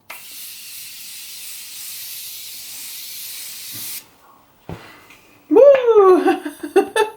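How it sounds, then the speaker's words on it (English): Morphe Continuing Setting Mist sprayed onto a face, a close, loud, steady hiss of about four seconds that cuts off abruptly, followed by a voice exclaiming and laughing. "I'm just gonna spray my face with some setting spray"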